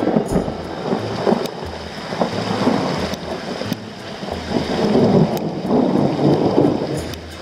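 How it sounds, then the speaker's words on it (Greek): Heavy rain pours steadily during a thunderstorm high on Mount Elbrus in the Caucasus, above 4,000 metres near the upper mountain hut, with low rumbling thunder rolling underneath and a few sharper cracks breaking through. "εκεί μας πέτυχε η καταιγίδα"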